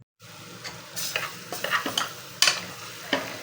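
Boiled eggplant with sesame browning in oil, stirred with a spoon in a pan: a steady close sizzle with a run of scraping, clattering stirs through the middle, no talk.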